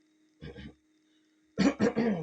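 A short throat clearing, then a brief pause, followed by a couple of harsher coughs, close and fairly quiet.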